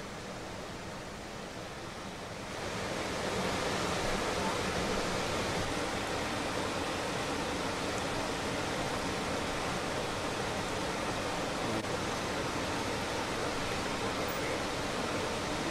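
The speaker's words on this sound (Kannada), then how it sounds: "ಬಟ್ ಸ್ಟಿಲ್ ನೀರು ತನ್ನ ಪಾಡಿಗೆ ತಾನು ಆ ರಭಸದಲ್ಲಿ ಸಾಕ್ತಾನೇ ಇದೆ" The Papanashini River in spate after heavy rain in Udupi roars as a loud, steady broadband rush of floodwater that swells up after a quieter opening and then holds constant with no voices.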